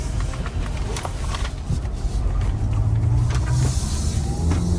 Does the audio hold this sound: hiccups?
no